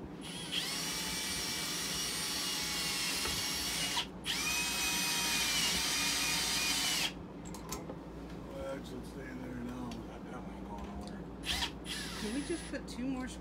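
Power drill driving screws while installing RV lighting: two long, loud whirring runs with a short pause between, then quieter handling noises and people talking.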